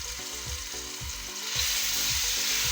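Crushed garlic paste sautés in two tablespoons of oil with a close, continuous sizzle that swells slightly partway through, while faint background music plays beneath it.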